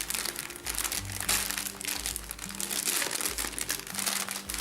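Jewelry subscription box from Corner by Charlotte being opened, close crinkling and rustling of packaging in continuous bursts, fairly quiet with no talking.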